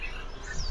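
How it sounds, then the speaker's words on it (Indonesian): Small prinia songbirds kept for sale at a bird market give thin, high chirps and a short rising whistle, faint against steady background market noise. "Ini perenjak lawu atau perenjak kristal."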